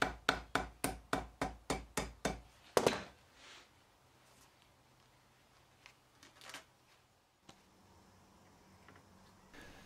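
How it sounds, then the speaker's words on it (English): A soft hammer cuts gaskets on a turned die block for cylinder covers with about ten quick, evenly spaced close blows, followed by quiet with a few faint knocks. "use a soft hammer to cut the gaskets"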